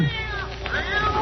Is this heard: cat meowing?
yes